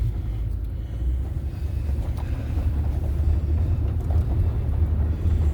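A 1997 Ford F150 pickup engine idles with a low, steady rumble, close and continuous with no talking.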